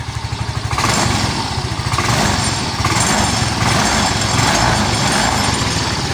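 Yamaha Mio i125 scooter engine running with its oxygen sensor unplugged, a loud, close, steady idle with a fast even pulsing putter and no talk over it.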